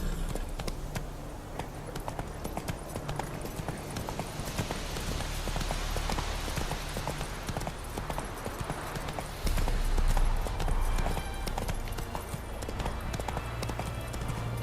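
Horse hooves clip-clop steadily in The Witcher 3 video game, a continuous rhythmic trotting beat up close, with faint game ambience and no talk.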